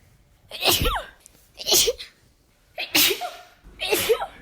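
Four loud sneezes in a row, each a sharp explosive burst separated by brief pauses, close and clear.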